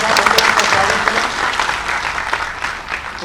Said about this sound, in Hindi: तालियों की गड़गड़ाहट के साथ हम लोगों का स्वागत करें।